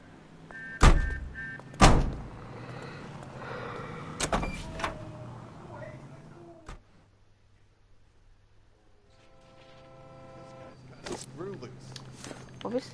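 Car door slams and engine starting as police detectives climb into a 1940s Los Angeles car in L.A. Noire, with sharp loud thuds early, a quieter idling stretch, then a mechanical whir and clunks, under occasional talk.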